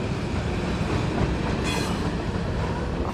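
A Canadian National train rolling past on its line into the United States, a steady loud rumble of wheels and cars with rail clatter and a brief high squeal partway through, no voices.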